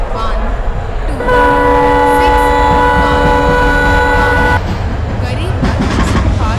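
A Superfast Express train sounds a long, steady horn blast at a railway station platform over a constant rumble of station noise.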